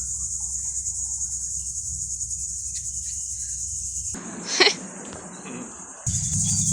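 A cicada outdoors gives off a loud, steady high-pitched buzzing rattle over a low background hum. It drops out briefly partway through and then resumes.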